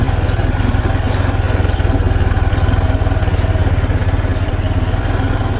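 A motorcycle engine idles close by, a steady low throbbing chug with a fast even rhythm and a slight rattle, running alone without pause.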